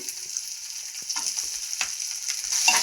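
Onions fry in hot oil with mustard seeds, cumin and garlic for palak dal khichdi, a steady close sizzle with scattered stirring scrapes and pops, growing slightly louder at the end; no speech.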